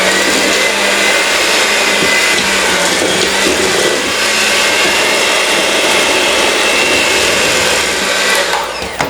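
An electric hand mixer beats whoopie pie batter with flour mixture in a bowl, a loud, steady whirring drone that runs unbroken and close up, with no talking.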